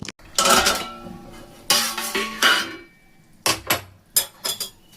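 A metal lid comes off a cooking pot of shukto made with powdered milk, left simmering on low flame, giving several loud, ringing clanks and scrapes in bursts separated by short silences, close by and without talk.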